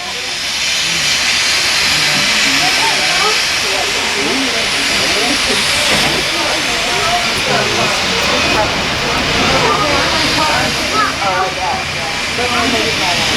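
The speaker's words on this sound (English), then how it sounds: "we have a special surprise pulling our train today, our steam locomotive number 425" Baldwin steam locomotive number 425 hauls a train through the Lehigh Gorge in Pennsylvania, giving off a constant loud hiss of steam over a chuffing rumble, with a voice speaking over it throughout.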